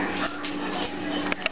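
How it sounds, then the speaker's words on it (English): A hound puppy whimpers in short, high, close whines and yips that rise in brief bursts near the end of a very short moment. "He's such a sad little puppy."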